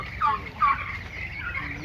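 Turkeys gobble in two quick, loud bursts close by, followed by softer warbling calls and a low background murmur.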